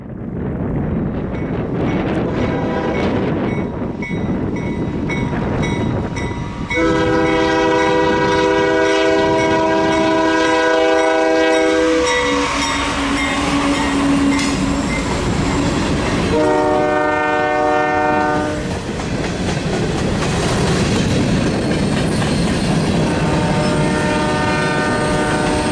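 A Canadian National mixed freight train rumbles past in Alberta with clattering wheels while its horn blasts in several long, loud, sustained chords, wind buffeting the microphone.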